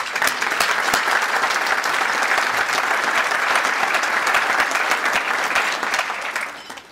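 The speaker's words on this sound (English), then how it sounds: "let's give a round of applause to the board members" A luncheon audience at a police awards event applauds the board of directors with loud, sustained clapping that holds steady for about six seconds, then tapers off at the end.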